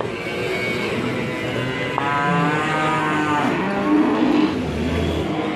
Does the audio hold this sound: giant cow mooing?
yes